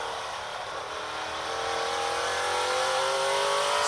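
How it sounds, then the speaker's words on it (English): A race car engine at the 2023 Menards 250 rises steadily in pitch and loudness as the throttle is fed on, a sustained rasping drone heard from a distance without voices. "Listen to him just feed a little bit of that throttle"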